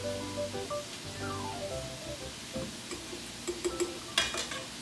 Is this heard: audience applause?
no